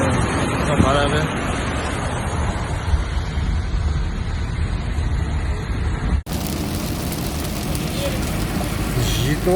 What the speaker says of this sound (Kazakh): қатты жаңбыр.